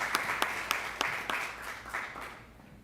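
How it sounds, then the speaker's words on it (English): Audience applause at a college town hall event: a dense, moderately loud round of clapping with a few sharper claps standing out, tapering off slightly toward the end. "Please let us show our appreciation by way of an applause."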